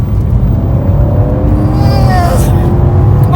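Mercedes-AMG C63 S rear-wheel-drive car cruising on a straight road, a loud steady engine rumble and road roar from inside the cabin, with a brief rising whine partway through.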